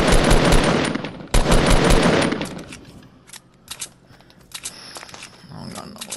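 Assault rifle fire in Fortnite, rapid loud bursts of automatic shots at close range that cut off abruptly, followed by scattered softer clicks, rustles and footsteps.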